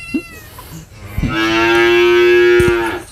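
Large Limousin cattle moo once, a single loud, drawn-out, close call lasting about two seconds, preceded by faint farmyard background and a brief higher animal sound.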